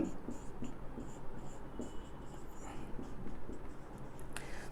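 Chalk or marker scratching on a board during a physics lecture, a continuous run of close writing strokes over steady room noise, with no voice.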